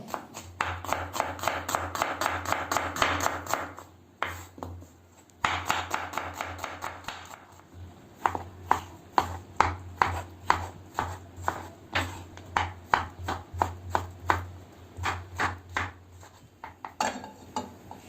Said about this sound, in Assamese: মই পিঁয়াজ আৰু বিলাহী ধুনীয়াকৈ কাটি লওঁ।